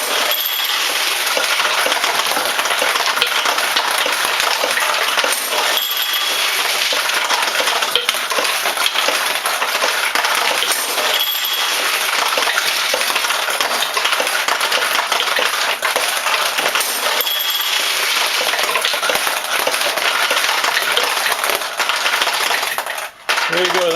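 A 1973 Nishijin Model B Spinner Man pachinko machine in play, with a dense, continuous clatter of steel balls rattling and pinging through pins and payouts, loud and close, running steadily with only brief dips.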